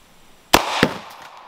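A homemade can cannon fires a can topped with chain outdoors: one loud sharp blast followed a beat later by a second crack, then a fading rush.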